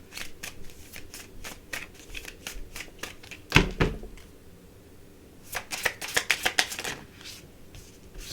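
Tarot cards are shuffled close up in rhythmic bursts of riffling, then a thump as the deck is handled. A faster flurry of shuffling follows near the end.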